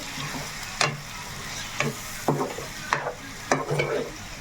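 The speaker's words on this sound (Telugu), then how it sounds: "ఇంకా బాగా వేగాలి మనకి" Chicken joint fry crackles and sizzles in a pan while a spatula stirs it, giving rhythmic scraping strokes about once a second over a continuous close frying hiss.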